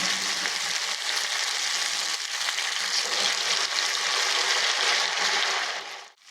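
Drumstick leaf pakoda batter fries in hot oil with a dense, continuous hissing sizzle, close and steady, fading out abruptly at the very end.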